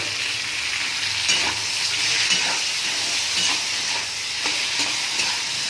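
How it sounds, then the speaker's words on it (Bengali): Poppy seed, onion and chili paste fry in a pan with potatoes over low heat, a dense, continuous sizzle and crackle up close, broken by occasional soft scrapes of stirring. "এর মধ্যে দিয়ে দেব বেটে রাখা পোস্ত, পেঁয়াজ আর লঙ্কা বাটা"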